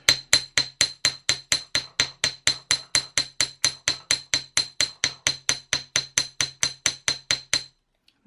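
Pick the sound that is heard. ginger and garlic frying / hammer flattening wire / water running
hammer flattening wire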